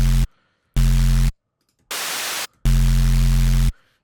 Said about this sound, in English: noise tends to crunch quite nicely with distortion